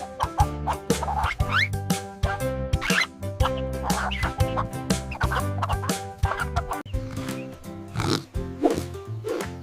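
A chicken clucks in a children's animal-sounds setting, layered over a busy, steady music track with bright repeated accents.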